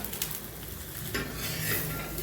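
An onion paratha sizzles steadily on a hot pan after being flipped, with a brief scrape and clink of a utensil against the pan partway through.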